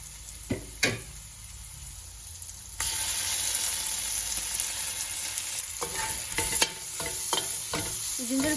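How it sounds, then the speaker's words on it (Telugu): Ginger garlic paste frying in a pan with onions and cashews for a tomato cashew curry, sizzling loudly and steadily with a few sharp spoon scrapes and knocks as it is stirred. "జింజర్ గార్లిక్ పేస్ట్ కూడా చక్కగా ఫ్రై అవ్వాలి."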